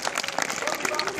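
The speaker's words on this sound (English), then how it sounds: "Give him a clap as he leaves." Audience clapping at a sea lion show, a dense burst of many hands applauding together, loud and continuous with voices mixed in.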